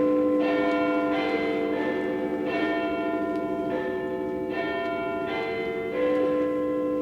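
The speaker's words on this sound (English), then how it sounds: "We hear church bells pealing." Church bells peal in a steady, repeating rhythm during a stage performance of A Christmas Carol, ringing strikes with long overtones carrying over one another, moderately loud with no voices.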